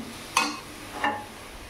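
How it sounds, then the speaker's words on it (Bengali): Dal and rice with slit green chillies fry for khichdi in a pan, with two distinct stirring scrapes over a faint sizzle. "ডাল আর চালটাকে একটু ভাজা ভাজা করে নেব, নাড়িয়ে চাড়িয়ে"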